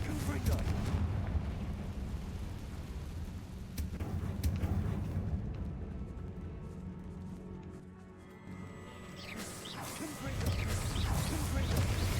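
A Confringo fire-spell blast cast in a tomb in Hogwarts Legacy lands as a loud, booming burst that rumbles for a few seconds, then fades before a second heavy eruption swells near the end.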